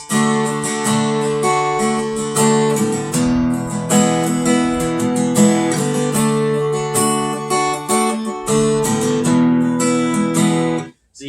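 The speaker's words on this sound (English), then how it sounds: "So that's the basic down-up strumming pattern." Acoustic guitar strummed steadily in a down-up rhythm, chords ringing continuously for several bars before stopping abruptly; no voices.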